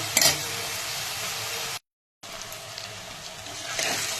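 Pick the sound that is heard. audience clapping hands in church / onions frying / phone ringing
onions frying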